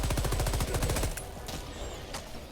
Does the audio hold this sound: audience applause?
no